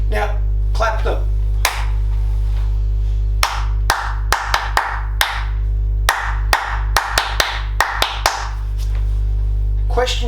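Hands clapping short composed rhythms in a room, sharp separate claps in irregular groups, some quick pairs and clusters, loud and close over a steady low electrical hum.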